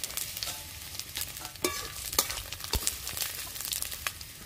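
Whole radhuni and cumin seeds with garlic cloves sizzling in hot oil, with close crackling, spitting pops and occasional clinks from the pan.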